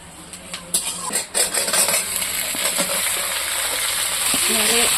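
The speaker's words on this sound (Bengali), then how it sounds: "আলুটা কত সুন্দর কষানো হচ্ছে দেখতে পাচ্ছ তোমরা" Potatoes sautéed in a pan for a fish roe curry, with a loud close sizzle and scraping stirs that build after the first second and then hold steady.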